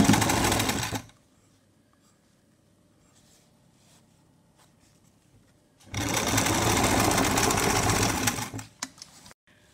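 A sewing machine stitches a long gown, running in two loud, close bursts of fast whirring, one short at the start and a longer one later, with quiet handling sounds between.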